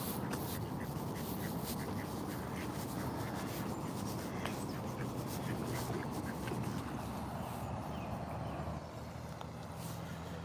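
Ducks quacking outdoors on a walking trail by the water, scattered calls blended into steady broadband background noise with no clear pauses.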